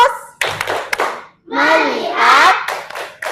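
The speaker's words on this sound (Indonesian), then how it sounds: "Tepuk fokus." A primary-school class claps in rhythm during a chant, several sharp group claps in a quick pattern followed by the children chanting together loudly and close by.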